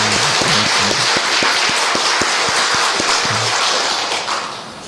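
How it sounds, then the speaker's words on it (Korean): Church congregation applauding to welcome the pastor at a men's mission dedication service, a dense crowd of clapping hands that stays steady, then fades out toward the end. "환영하는 박수 또 하겠습니다"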